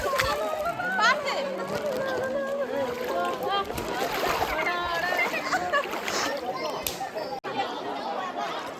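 Water splashes and churns at Athirappilly waterfalls, a continuous lively wash close by, with people chattering and calling out over it throughout.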